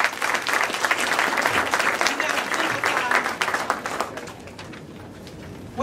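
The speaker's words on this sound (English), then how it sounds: "Please, let's give them all a round of applause." An audience at a school board meeting applauds students, a full round of clapping from a sizable crowd that holds steady for about four seconds and then dies away, with some voices mixed in.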